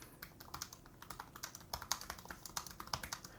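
Quick, light keystrokes on an ASUS Zenbook 14 OLED laptop keyboard form a steady, close-up run of soft clicks and taps, alone and fairly quiet.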